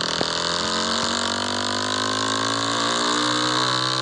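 A dirt bike engine in a video game drones continuously with a steady buzzing whine that rises gradually in pitch as it revs. It is loud and close throughout, with no talking.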